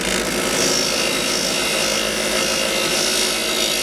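A power tool fitted with a soft polishing pad works on a steel part, producing a loud, steady abrasive whir and rubbing hiss that continues without a break and without any voices.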